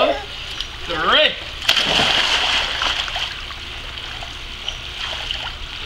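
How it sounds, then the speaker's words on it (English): A child splashing into a swimming pool after an adult's countdown, a sharp splash followed by running, trickling water with an adult voice and child sounds around it. "We're gonna splash."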